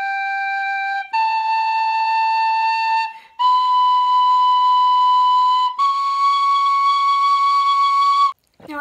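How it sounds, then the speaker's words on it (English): An Irish tin whistle in D climbs a scale in four clear, sustained notes, each held for a second or more with short gaps between, bright and close with no talk. "The tin whistle is also known as the penny whistle."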